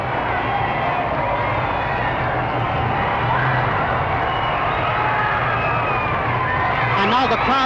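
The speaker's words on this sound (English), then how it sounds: "the crowd have broken through. They've broken through some of the precautions there and are absolutely mobbing the presidential car" A large street crowd in Dublin in 1963 surges around President Kennedy's motorcade car, a steady, loud roar of cheering and babble with commentary spoken over it. Near the end it rises in scattered shouts.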